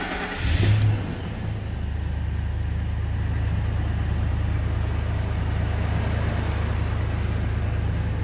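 A Ford 5.4 V8 with a newly replaced driver-side exhaust manifold starts with a short burst of cranking, then settles into a steady, even idle rumble that stays close and continuous with no talking.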